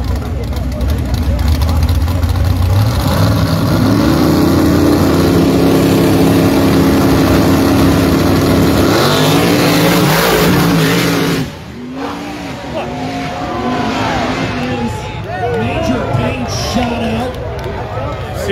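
A truck engine revs hard while running at a motorsport event, loud and rising with a crowd and commentator's voice over it, then engines fade into a busier mix of passing cars and talk.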